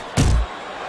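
A single heavy, dull thud of a punch landing in the Fight Night Champion boxing video game, brief and close, with faint background noise after.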